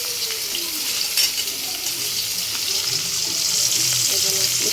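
Fish fries in a pan of very hot oil, giving a steady, loud, close sizzle throughout with a few brief louder crackles and no talking.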